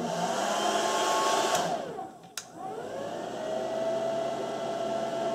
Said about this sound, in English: I'm going to turn on the hair dryer